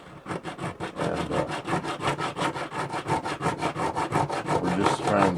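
Coarse sandpaper scrubs back and forth across the wood of a guitar bridge, a steady run of about two dozen quick rasping strokes, close and loud with no talking.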